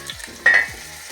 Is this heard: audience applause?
no